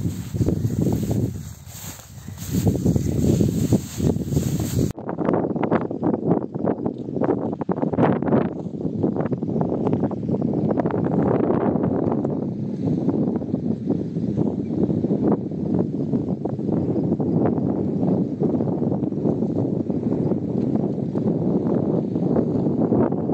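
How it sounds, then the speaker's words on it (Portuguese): Strong wind gusting against the microphone on a mountaintop farm, a loud continuous buffeting roar that runs almost unbroken for about eighteen seconds after a quieter opening. "O barulho de vento vai estar forte"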